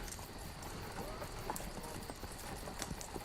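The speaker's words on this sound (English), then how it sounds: "It's just making a click-clacking noise as it comes." Mechanical wagon rolling down a path in a tabletop role-play scene, a rhythmic clip-clop clatter like hooves under ongoing talk, with a few sharper knocks standing out.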